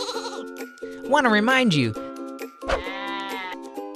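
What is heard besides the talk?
sheep bleating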